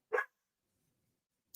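A single short dog bark, close and sharp, followed by silence.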